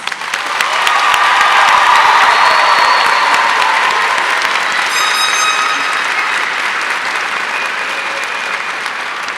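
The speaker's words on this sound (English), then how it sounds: "Please join me in giving all of these soon-to-be graduates a round of applause." A large crowd at a high school graduation ceremony in an arena breaks into sustained applause with scattered cheers and whistles, swelling quickly to a loud, dense roar of clapping that slowly eases over several seconds.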